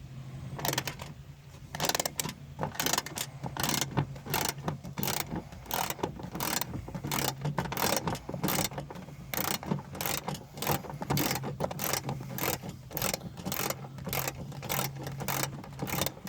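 A ratchet wrench loosening the window regulator nuts on a 2008 Mazda Tribute door, a long run of rapid, evenly spaced clicks, close and steady.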